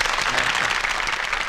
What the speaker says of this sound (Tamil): இங்கே கைத்தட்ட சொல்றான்.